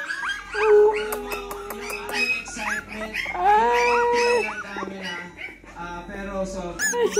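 A puppy whimpers and lets out rising, wavering howls, close by, with human voices mixed in among the cries.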